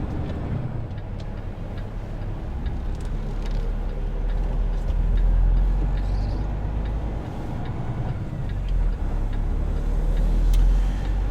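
A semi truck pulls away hauling an empty, older trailer, its engine a steady low rumble that swells and eases as it drives off, with faint rattles and ticks riding over the drone.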